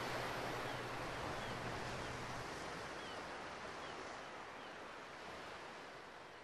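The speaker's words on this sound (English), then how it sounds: "You got the ocean." Ocean waves at a beach in the video game Ico wash in as a soft, continuous surf hiss with a faint low hum early on, gradually fading slightly, quiet and without voices.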